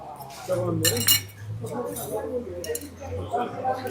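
Knives and cutlery clink against dishes while samsa from a tandoor oven are cut open, with several sharp metallic taps and clinks under people talking nearby.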